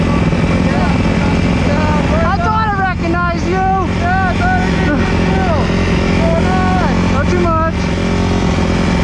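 A dirt bike engine runs loud and close with a steady drone, and its high idle shows repeated pitch blips and wavering. Voices talk over it throughout.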